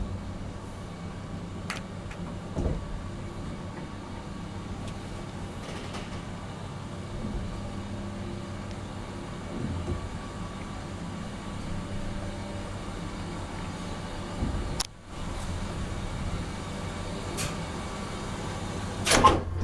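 A 1970 ValmetSchlieren traction elevator riding between floors in an apartment building, giving a steady low mechanical hum with a few soft clunks and one sharp click along the way.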